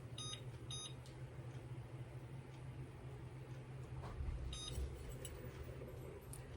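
A kitchen timer being set on a stovetop while cooking gives a few short, faint beeps in quick pairs, heard over a low hum in the room.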